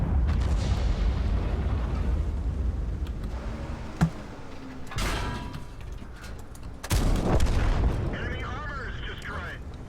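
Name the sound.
gunfire from a tank gun in a video game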